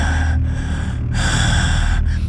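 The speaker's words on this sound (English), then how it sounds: "they began to hear heavy breathing" Heavy, rasping breaths fill a dark room, three long loud inhales and exhales in a steady rhythm, close and breathy with a low rumble beneath.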